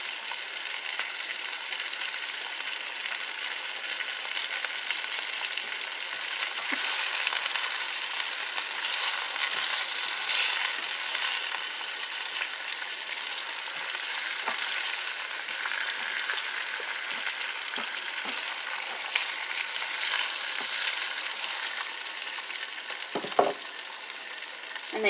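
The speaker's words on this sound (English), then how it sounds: "The onions are starting to sweat, and they're going to start becoming a little transparent and" Onions sweat and fry in a pan, giving a steady, even hiss of sizzling that stays constant and close, with a few faint clicks and one brief clatter near the end.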